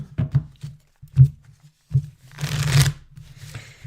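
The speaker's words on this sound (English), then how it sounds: "shuffling these cards for you" Cards being shuffled for a card reading, several short riffling bursts, close and fairly loud, ending in one longer riffle, with no talk over them.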